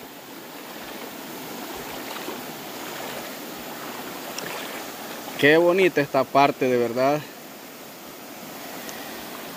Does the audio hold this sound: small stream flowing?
yes